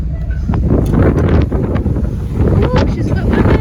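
Strong wind buffeting the microphone on the open deck of a ferry heading out to sea off New Zealand's South Island, a constant heavy roar with low rumbling gusts and faint higher sounds poking through.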